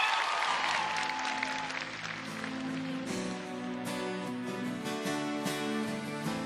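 Live audience applause and cheering at a rock TV talent show, a dense continuous roar of clapping that holds steady throughout while music begins to rise underneath.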